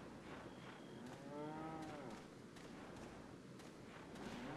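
Cows moo in the Resident Evil 4 video game, a long drawn-out low bellow in the middle of the clip over a steady background of game ambience, with a few dull thumps scattered around it and no speech.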